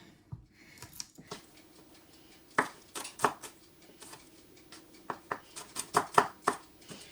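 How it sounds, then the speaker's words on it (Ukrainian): A knife chopping two garlic cloves on a cutting board, irregular sharp taps that speed into a quicker run of cuts toward the end, close and quiet. "до цибулі також я покришу два зубки часнику"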